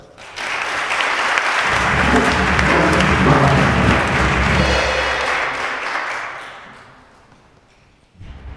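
A church congregation at a Sunday Mass breaks into loud, sustained applause that swells and holds for several seconds, then gradually fades out.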